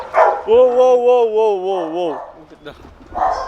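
At a dog boarding and training center, a loud, drawn-out wavering whine or howl rises close by. Short yelps come just before and after it.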